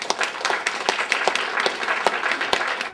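Audience at a political debate clapping, a dense burst of many hands with sharp individual claps standing out, steady and fairly loud throughout.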